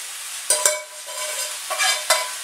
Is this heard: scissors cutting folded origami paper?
no